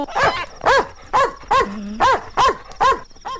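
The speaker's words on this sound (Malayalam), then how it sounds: "പട്ടിയുടെ കുറയല്ലേ കേട്ടത്?" A dog barks repeatedly in quick, evenly spaced bursts, close and loud, with a brief low growl between barks.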